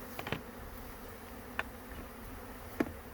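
Honey bees buzz faintly and steadily during hive work, a low insect drone with a few brief sharp ticks and knocks near the container.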